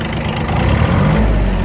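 A Kubota B1-16 4WD 16 hp mini tractor runs cold at idle, giving a steady, close, low diesel rumble that holds evenly throughout with no other sounds.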